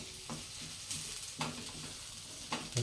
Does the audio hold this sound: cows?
no